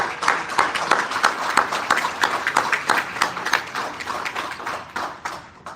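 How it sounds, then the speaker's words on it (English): Audience claps for educators at a public-school tutoring forum: a continuous patter of many hands, moderately loud and even throughout. "Could we give all of the educators in the system a big round of applause,"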